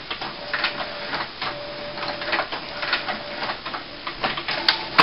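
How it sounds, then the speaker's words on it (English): HP PSC 2575 printer working with its carriage shuttling left to right, a steady mechanical whir with a faint tonal hum and repeated rising sweeps, close and moderately loud. "You can hear the printer moving from left to right."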